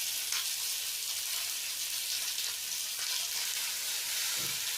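Soaked jowar (sorghum) frying with masala in oil gives a constant soft sizzle and hiss, even and unbroken, with no talking.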